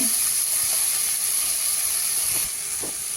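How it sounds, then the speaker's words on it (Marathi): Mixed vegetables (green peas, cabbage and corn kernels) go into a hot pan with sautéed ginger and garlic, giving a steady, close, fairly loud sizzle and hiss that carries on without a break. "आता त्यामध्ये या सगळ्या भाज्या आपल्याला घालायच्या आहेत मटार दाणे कोबी कॉर्नचे दाणे"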